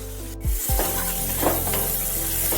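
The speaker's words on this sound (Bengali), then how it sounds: "নুন হলুদ দিয়ে কুমড়োটাকে ভালোভাবে নাড়াচাড়া করে নিতে হবে" Diced pumpkin is stirred in hot oil with salt and turmeric for a pumpkin chutney, with close scraping stir strokes over a steady, loud frying sizzle.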